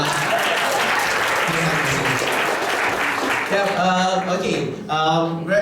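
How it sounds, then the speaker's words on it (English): Audience applause at an evening business presentation, a dense wash of clapping that fills the first few seconds and then thins as a voice begins speaking over it. "So give yourself a round of applause, please."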